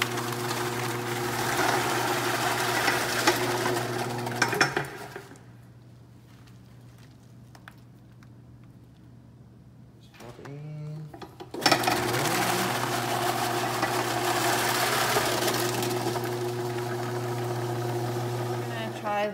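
A VC-01 electric vegetable slicer runs loudly as vegetables feed through it, with a steady motor hum, a quiet pause in the middle, then a second stretch of running.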